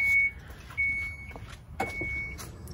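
A 2012 Chrysler Town and Country minivan's power liftgate closes: a steady electric whine runs in stretches with a couple of short mechanical clunks, heard close with faint background hum.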